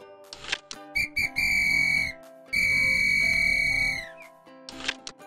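Two long, loud whistle blasts with a piercing steady tone, preceded and followed by short clicks and knocks.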